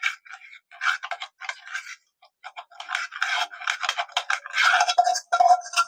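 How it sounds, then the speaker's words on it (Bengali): A metal spoon scrapes and spreads ghee around a cake mould while semolina pitha is being prepared, making close, repeated short scraping strokes in quick bursts with brief pauses between them. "ঘিটা ভালো করে এরকম করে একটু ছড়িয়ে লাগিয়ে নিতে হবে"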